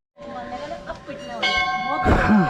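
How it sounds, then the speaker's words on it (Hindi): Metal temple bells ring at the Golu Devta temple in Ghorakhal, with several overlapping clear tones and bright strikes that grow louder toward the end, over faint crowd murmur. "बस घंटियाँ ही घंटियाँ आपको मिलेंगी।"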